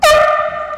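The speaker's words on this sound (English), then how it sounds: "I told you that's a horn" Air horn blasted inside a library, one loud, close, piercing honk that sustains for under a second before trailing off.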